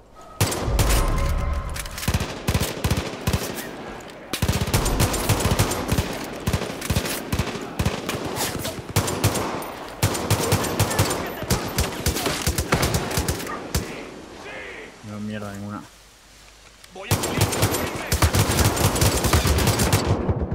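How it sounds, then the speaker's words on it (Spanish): Heavy machine gun fire in the shooter video game Far Cry 5 blasts in long, loud sustained bursts, broken by short pauses and one quieter stretch, with faint game sounds between volleys. "con ametralladora gorda"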